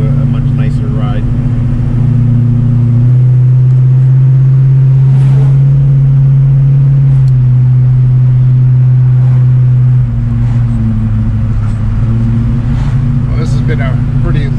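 A 1969 Pontiac Grand Prix with a big block engine, heard from inside on the road as a loud steady drone with the revs shifting up and down, while people talk over it.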